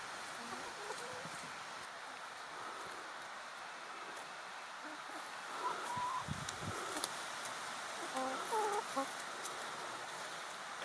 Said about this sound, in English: So aside from the chickens that you can hear, the hiss in the background is the river Walkham